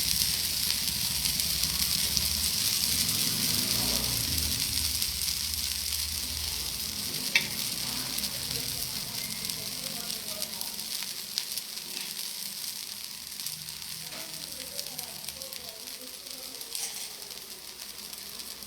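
Food frying in oil in a pan gives a steady, dense sizzle throughout, fuller and louder at first and gradually thinning, with no talk.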